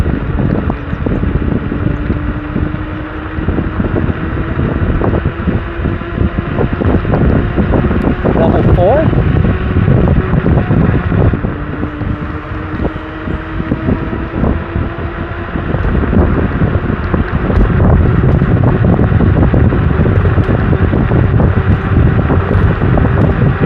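Varla Eagle One V2.0 electric scooter ridden on level 3 with a single motor, a steady loud wind roar and road rumble against the microphone that continues throughout, while a rider talks over it.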